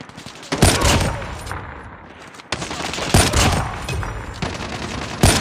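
Loud bursts of automatic gunfire in a Call of Duty match, several rapid volleys separated by short pauses, close and dense, with faint game voices between them.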